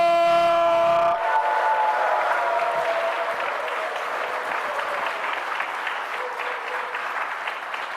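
An audience claps during a church revival meeting in Gwangju. A short sustained musical chord gives way to loud, dense applause that fades slowly but keeps going to the end.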